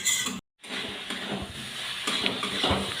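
Fried prawn masala being stirred in a pan, a steady scraping and clinking of spoon against metal close by, with a brief silent gap near the start and no talking.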